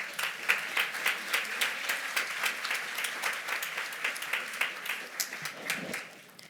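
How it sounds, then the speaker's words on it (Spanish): An audience gives warm applause to welcome a speaker at a talk on the movements of the mind, many hands clapping in a dense, even patter that holds steady and then starts to thin near the end. "Un aplauso para Laura."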